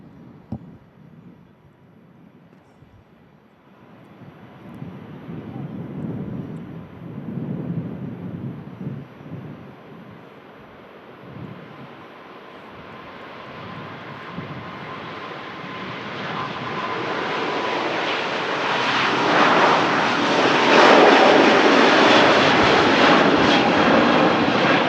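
An Airbus A350's jet engines roar on the takeoff roll at Manchester Airport, starting as a distant rumble and building to a loud, broad roar that holds to the end.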